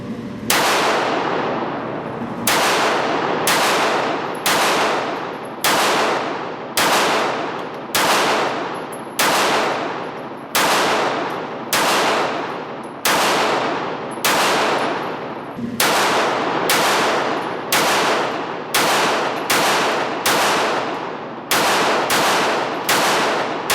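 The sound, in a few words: CZ 82 pistol shots fired at a shooting range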